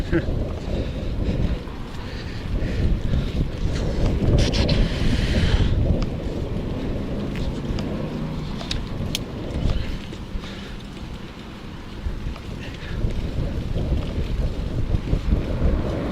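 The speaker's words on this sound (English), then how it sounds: "Hope this wind isn't too loud." Wind roars across the microphone for a long stretch, a constant heavy rumble with stronger gusts, while someone talks faintly beneath it.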